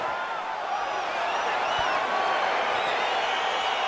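Arena crowd in the EA Sports UFC 4 video game roars and cheers as a fight begins, a steady, dense wash of noise that holds at an even level throughout.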